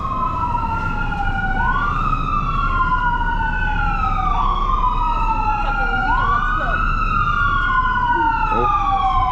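Ambulance sirens wail on a busy Vancouver city street, loud repeating rising-and-falling tones over steady traffic rumble, with a voice briefly speaking.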